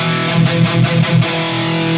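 Loud, distorted electric guitar through T75 and Vintage 30 speaker cabinets mixed together on an Axe-Fx III MKII chugs a rhythmic chord pattern with pulsing accents, full and thick in tone, with no voices.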